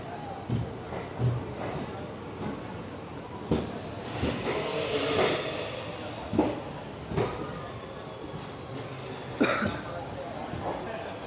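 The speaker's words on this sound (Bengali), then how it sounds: "তো ফাইনালি আমাদের ট্রেনটি খড়গপুর রেলওয়ে স্টেশন থেকে ছেড়ে দিল। এখন আমাদের ট্রেনটি এগিয়ে চলেছে উড়িষ্যা রাজ্যের বালেশ্বরের দিকে।" An express train pulls out of Kharagpur railway station, its wheels squealing loudly on the rails over a continuous rumble, with scattered clanks. Muffled voices can be heard underneath.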